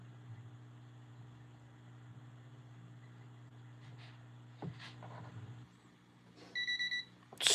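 Auction timer alarm going off near the end of a steady hum, a short burst of repeated high beeps that grows louder over the last second.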